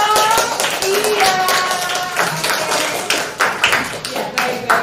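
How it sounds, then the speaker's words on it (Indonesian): A classroom group applauds another group of students with a burst of close, overlapping handclaps that continues for several seconds, with some voices mixed in. "Oke deh, tepuk tangan dong."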